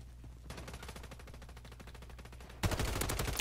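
Rapid automatic bursts from the Haymaker shotgun in Call of Duty MW3, a fast, evenly spaced string of sharp shots that runs on and then grows suddenly louder and harsher near the end.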